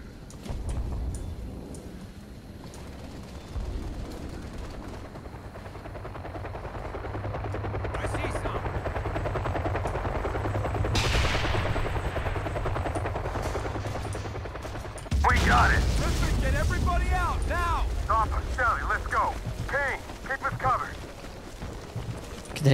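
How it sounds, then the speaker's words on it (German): In the Kane and Lynch game, a loud helicopter rotor drone runs throughout while bursts of machine gun fire crackle, growing denser and harsher in the last third; voices come through in places. "Wir müssen den scheiß Heli wegnatzen."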